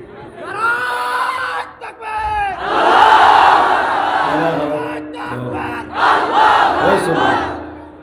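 A large crowd at an outdoor Islamic religious gathering roars a takbir chant in loud, surging collective bursts, answering a single preacher's voice over a microphone.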